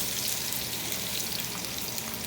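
Hot oil sizzles in a sauté pan, a dense, steady hiss and crackle heard up close without talk.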